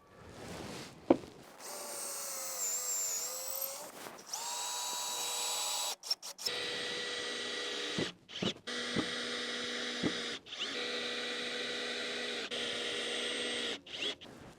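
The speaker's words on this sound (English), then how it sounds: "I like to back the screw off a little bit just to get a couple of screws started so it's perfectly centered." A power drill drives screws while a newel post is being installed, with several whining bursts of varying pitch separated by short pauses and clicks. The drilling is close and loud, and no one talks.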